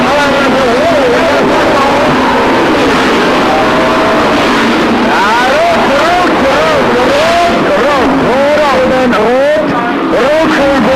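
Stock car engines at the Autospeedway Baarlo oval during a 1992 F1 stockcar race, loud wind-buffeted roar with several engines whining and swooping past, heard under continuous commentator talk.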